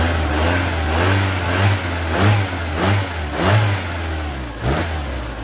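A Mazda car engine running under its hood in an engine bay, idling with repeated throttle blips that rise and fall in a steady rhythm, close and fairly loud with no talk.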